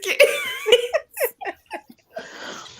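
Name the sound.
coughing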